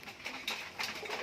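A Teddy pigeon at a caged pigeon market coos in short bursts close by, with a brief second call later in the moment.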